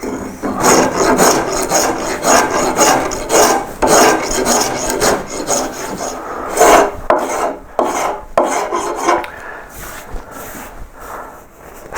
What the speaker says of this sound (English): this is the first pass with a coarse rasp, so we're going to see scratches.